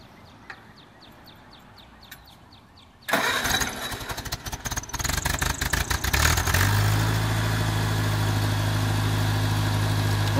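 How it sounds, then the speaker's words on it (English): A 1948 Farmall Cub tractor engine cranks and catches after a quiet start with faint clicks, then runs at a loud, steady, rumbling idle close by. "running the Farmall Cub."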